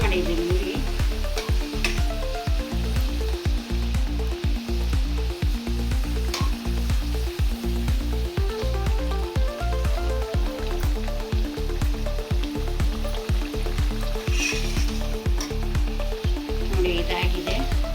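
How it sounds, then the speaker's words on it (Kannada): Dates karjikai frying in hot oil over a low flame, a steady close bubbling sizzle that runs throughout with faint stirring. "ಹಿಂಗೆ ಬ್ರೌನ್ ಕಲರ್ ಬರೋ ತನಕ ಬೇಯಿಸಿ, ಸ್ವಲ್ಪ ಎಣ್ಣೆ ಕಾದಿದೆ, ನೀವು ಲೋ ಫ್ಲೇಮಲ್ಲಿ ಇಟ್ಕೊಂಡು ಮಾಡಿ"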